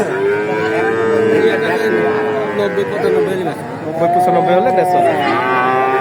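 Cattle at the Talgachhi livestock market in Sirajganj give loud, long, close moos over ongoing talk and market bustle.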